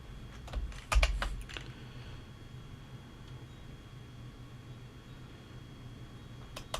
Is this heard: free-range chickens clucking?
no